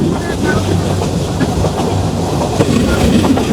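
Aboard the Joyantika Express between Dhaka and Sylhet at speed, loud steady rolling rumble with repeated wheel clatter over joints and a brief louder knock near the end, no voices.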